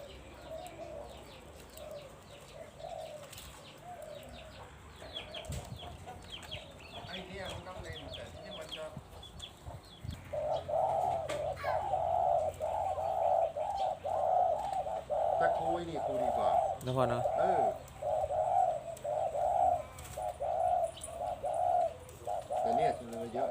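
Decoy birds call at a bird camp in Thailand, sounding repeated soft cooing notes in a steady rhythm that grows louder and denser midway, with people talking nearby.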